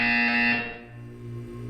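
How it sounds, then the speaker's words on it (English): A buzzer sounds in a Portal 2 test chamber: a loud, steady electronic tone that cuts off after about half a second, followed by a quieter lingering hum. "You will hear a buzzer. When you hear the buzzer,"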